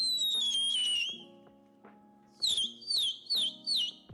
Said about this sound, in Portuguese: Depois apresenta os fogos de apito, que sobem assoviando antes de explodir